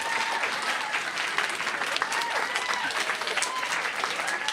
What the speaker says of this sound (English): Let me hear hand claps as loud as you can, all right?